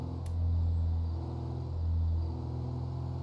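A low engine of an old Mustang-like car in a video game rumbles steadily, swelling twice in slow surges as if revving, with a faint brief tick near the start.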